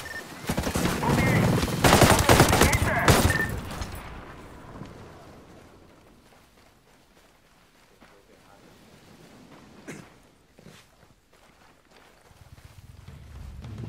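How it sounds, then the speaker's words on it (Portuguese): High-caliber gunfire in the tactical shooter Ghost Recon Breakpoint: rapid loud bursts crack through the first few seconds, then trail off into a long rolling echo, with a couple of isolated later shots and low rumble beneath. "quando a gente dá tiro com calibre alto, dá um eco no, de bala, né?"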